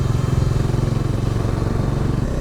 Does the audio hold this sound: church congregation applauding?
no